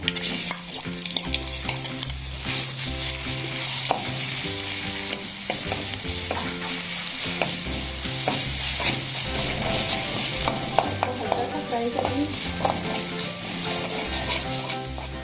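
Ginger garlic paste fries loudly in hot oil with a constant crackling sizzle, while a spoon stirs and scrapes the pan at intervals, over quiet background music.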